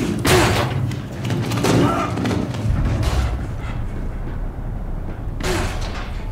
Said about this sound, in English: Breach the door!